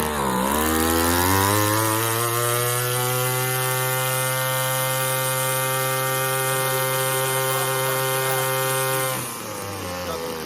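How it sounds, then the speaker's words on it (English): A Tanaka two-stroke weed eater engine revved to high idle gives a loud, steady buzzing whine that climbs quickly at the start, holds for several seconds, then drops off near the end. No voices. "I'm gonna give it some gas and see whether it's high idle."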